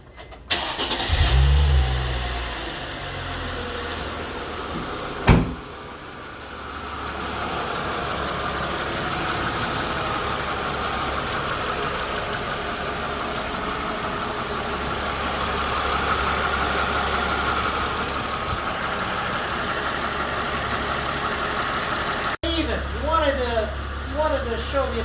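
A 2004 Chrysler Crossfire engine cranks and fires up with a loud rev after an oil change, then settles into a steady idle for a long stretch, with people talking over it near the end.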